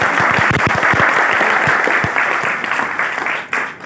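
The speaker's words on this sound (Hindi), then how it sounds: "ताली होनी चाहिए।" Audience applause at a motivational talk on Ayurvedic products, with a burst of close, loud clapping that thins into scattered claps and fades near the end.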